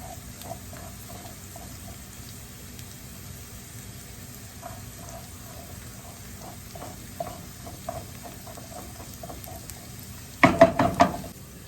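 Seasoning cooking in a pan for a family breakfast gives a soft, steady low sizzle with faint scattered ticks, ending in a short burst of louder clattering knocks near the close.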